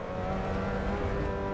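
A Mazda Miata race car engine in the Assetto Corsa Evo racing game holds a steady, buzzing high-revving drone with a dense harmonic whine, continuous and fairly loud with no talking.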